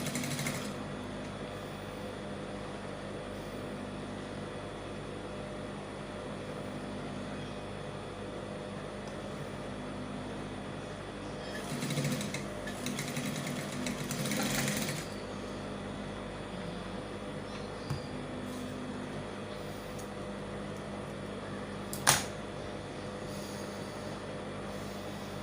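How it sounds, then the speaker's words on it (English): A sewing machine stitches a shirt collar with a steady, continuous mechanical whir and hum. It is fairly quiet and constant throughout, with a brief louder patch partway through and a single sharp click near the end. "So I'll just continue sewing."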